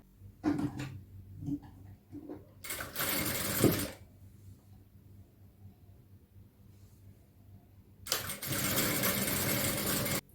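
An electric sewing machine stitches folded cloth in three distinct bursts of fast whirring, short at first, then a longer run, and a final sustained stretch, with quiet pauses between.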